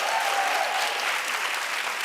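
Studio audience applause on a television talk show, a dense steady wash of clapping hands that holds evenly at full strength for about two seconds with no voices over it.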